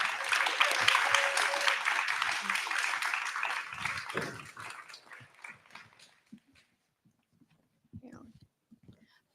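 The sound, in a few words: audience applause for Sylvia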